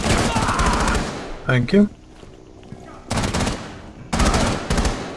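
Rapid bursts of automatic gunfire in Rainbow Six Siege, loud and close, broken by a short pause where a voice speaks briefly before two more bursts.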